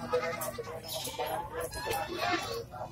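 Male Javanese Randu goats bleat repeatedly at the Cilongok animal market in Indonesia, close and loud over busy crowd chatter and market bustle.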